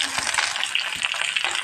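Snake gourd pieces and hot oil with browned onions sizzling in a pan, a brief dense crackling hiss with faint stirring knocks, close and steady.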